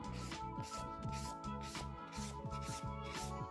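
Nail file rubbing in a steady back-and-forth rhythm as gel polish is filed off near the cuticles, using the fine-grit side of the file, close and clear over a low musical hum.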